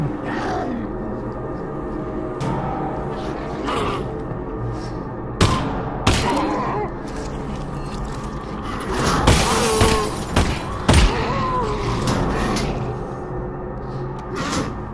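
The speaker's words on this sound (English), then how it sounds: "The breakable glass panels in Half-Life Alyx are yet one more system designed to convince players that they are present in a living, breathing world" Glass panels shattering in the VR game Half-Life Alyx, with several sharp crashes and tinkling breaks spread across a steady game ambience, the loudest bursts coming close together near the middle.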